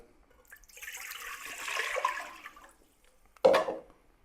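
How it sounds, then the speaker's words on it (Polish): Water is poured into a cooking pot in a home kitchen, a splashing stream lasting about two seconds, then a short second gush that quickly fades. "do garnka wlewam wodę."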